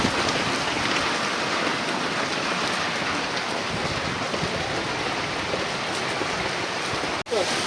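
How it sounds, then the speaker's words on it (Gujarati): Heavy rain pours down steadily in Umrala, a dense, continuous hiss of drops on surfaces that stays at an even loud level throughout, with one brief dropout near the end. "વરસાદ ફૂલ ચાલુ થઈ ગયો છે મારે ઉમરાળામાં"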